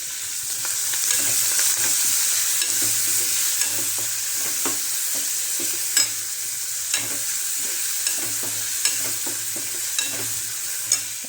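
Tomatoes frying in oil with garlic for an eggplant curry, a steady soft sizzle with regular scraping clicks of a spoon stirring in the pan, close and alone without talk.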